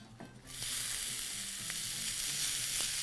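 Onions drop into hot oil and instantly erupt into a loud, dense sizzle that holds steady and close, with faint clicks of stirring underneath and no talking.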